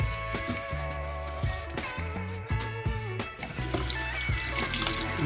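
Tap water runs steadily into a bathroom sink during rinsing after a clog is cleared, a continuous close splashing flow with small clinks and shifts, no talking.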